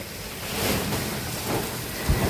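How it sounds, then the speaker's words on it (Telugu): Heavy rain pours steadily during a thunderstorm, a dense, continuous wash of noise with faint low rumbles beneath. "ఇంత నీళ్ళు ఇంత వర్షం అసలు జీవితం ఇదే ఫస్ట్ టైం చూడడం."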